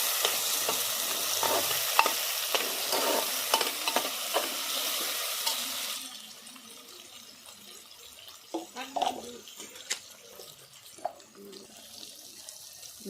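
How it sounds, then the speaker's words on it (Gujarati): Onion, carrot, chili, potato and tomato being stirred in a frying pan with tempering leaves, a steady loud sizzle easing after six seconds into quieter scraping and stirring knocks. "આ છે ડુંગળી ગાજર મરચું બટેટું ટમેટું તો આને એ અંદર હલાવી નાખશું"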